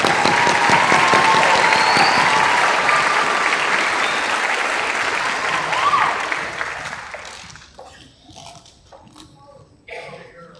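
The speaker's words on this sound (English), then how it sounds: "Please give them one final round of applause." Loud, sustained applause from a crowd at a school graduation ceremony honoring the graduating students, fading out after about seven seconds into scattered claps and murmurs.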